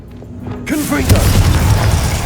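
Confringo blasting spell going off in Hogwarts Legacy: a quiet lead-in gives way to a sudden loud burst and a rumbling, crackling blast that keeps roaring for over a second.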